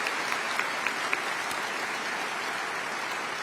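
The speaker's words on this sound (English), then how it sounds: "We've got to give young Case a round of applause for a great year of service." A large crowd at the Texas A&M Aggie Muster campus ceremony gives a brief round of applause for the outgoing student body president, loud continuous clapping with a few sharper claps near the start.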